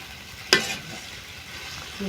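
Duck meat stir-fried in a pan, a sharp scrape of the stirring utensil followed by steady soft sizzling, close and clear with no talking.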